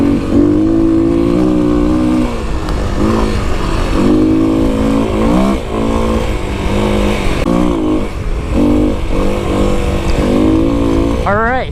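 A Kawasaki KLX300 dirt bike engine drones loudly and steadily while riding across open desert, its pitch rising and falling with throttle changes, up close and continuous, with a rider's voice partly over it.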